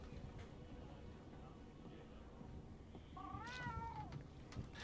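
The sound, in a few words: cat companion meowing in the video game Monster Hunter World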